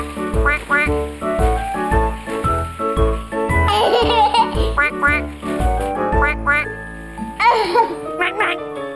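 Rhythmic quacks from a cartoon duck in a children's show, sounding in quick repeated bursts alongside childlike voices and giggles; the quacks may be voiced imitations.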